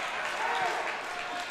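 A high school basketball crowd in a gym gives a brief, faint round of applause during a playoff game, heard as a diffuse wash of clapping under a commentator's voice.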